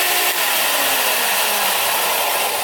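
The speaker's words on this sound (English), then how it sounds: "a lot of this was made with the new belt sander that I got" A belt sander running hard on metal intercooler pipe work for a turbocharged LS-swapped Ford Ranger, a loud, unbroken broadband roar with a steady grinding hiss and no break throughout.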